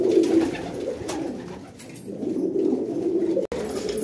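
A white bar female pigeon coos in repeated low throaty phrases close by, the rolling calls rising and falling in steady bursts with a brief pause midway.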